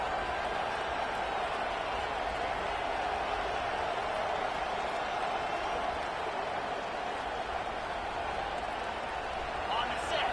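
A football stadium crowd roars steadily for the defense during a red-zone stand, a dense, continuous wash of cheering and noise that stays loud throughout with no pauses.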